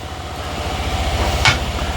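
A wood lathe spinning a large maple bowl at 875 RPM, cut with a 16 mm ball gouge, gives a steady low rhythmic hum and thrum with a faint hiss of cutting and one brief louder scrape partway through.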